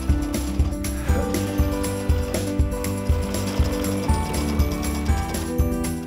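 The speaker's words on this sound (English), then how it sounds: "Now sew the seam with a 1/4-inch seam allowance." A sewing machine stitching a quarter-inch seam on a quilt strip, a steady rapid mechanical clatter with a regular pulsing rhythm, close and alone without speech.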